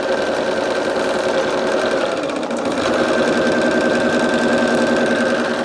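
A home embroidery machine stitches a batting placement line, a loud, close, continuous mechanical whir with a fast rhythmic clatter that runs without pause.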